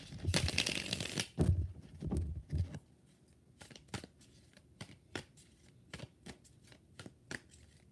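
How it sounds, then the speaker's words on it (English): Tarot cards are shuffled by hand, starting with a loud riffling burst, then a run of soft, evenly spaced taps and flicks as the deck is handled, close and alone. "One more shuffle."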